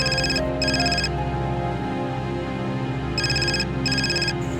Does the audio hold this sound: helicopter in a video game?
no